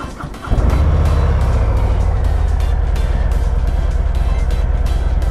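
A 2023 Harley-Davidson Heritage Softail Classic with the 114 engine starts and settles into a loud, steady, deep idle close by, its rumble continuing without pause.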